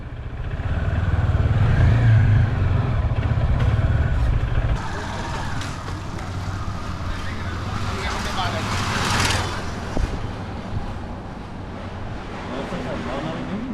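Motorcycles on a lunch ride pull up at a restaurant in Eluru, their engines rumbling loudly for a few seconds before cutting off, leaving softer traffic noise and nearby voices.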